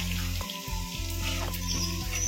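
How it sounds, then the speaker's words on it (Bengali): Leaves sizzle steadily in hot oil in a frying pan, a continuous close crackle with a low, even bubbling hum underneath. "এখানে কিছুগুলো ভাজা হয়ে গেছে, কিছুগুলো এখনো ভাজা চলছে"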